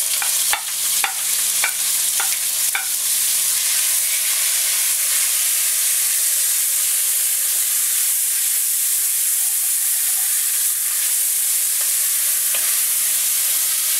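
Onion rings and sliced green pepper sautéing in a pan, a loud continuous hissing sizzle with a few early clicks of stirring, close and steady throughout.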